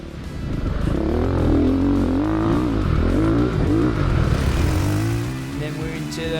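Ducati motorcycle engine on a race track lap, ridden onboard, revving loud and close with the pitch climbing and dropping through gear changes before easing off near the end.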